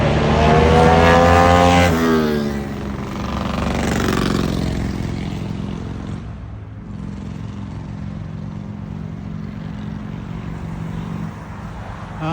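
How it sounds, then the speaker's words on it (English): Noisy motorcycles passing on a road beside a waterside trail in Florida, a loud engine roar that peaks early and then fades into a lower steady rumble as they move away. "people with noisy motorcycles."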